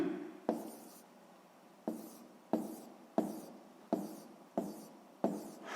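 Pen strokes writing a scale in a sixth-grade maths exercise: seven short scratchy bursts at a steady rhythm, each with a sharp tap at the start, close and fairly quiet.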